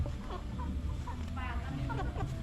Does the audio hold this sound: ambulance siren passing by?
no